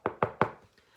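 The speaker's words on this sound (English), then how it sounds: "A knock at the door sent Ralph scurrying to the knothole." Three sharp knocks on a door in quick even succession, close and clear, followed by a brief quiet.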